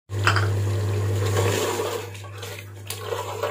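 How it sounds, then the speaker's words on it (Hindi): Water pours steadily into a pot of frying achar gosht, a continuous rushing splash loud at first and easing to a softer trickle after about a second and a half, with a low hum underneath. "उसके बाद हम इसमें जो है पानी डाल के"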